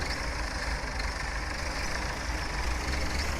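Tractor engine in Farming Simulator 17, a steady low rumbling drone held at constant loudness throughout, with no voices.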